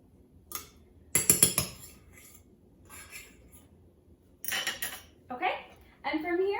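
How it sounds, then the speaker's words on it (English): A fork scraping and clinking against a pot while fluffing cooked brown rice, with a few close metallic taps and light scraping strokes in bursts, some louder clatter near the start. "we're going to open up the pot again and just use our fork, and we just kind of fluff it up to make it nice and fluffy"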